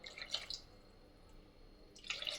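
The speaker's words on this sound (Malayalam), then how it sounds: "തിളച്ച വെള്ളം ചേർക്കണം ഒരിക്കലും പച്ചവെള്ളം ചേർക്കരുത്" Boiling water is poured into a cauliflower curry gravy in a home kitchen, making two brief, faint splashing bursts with a quiet pause between them.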